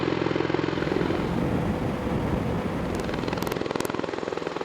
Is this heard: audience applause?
no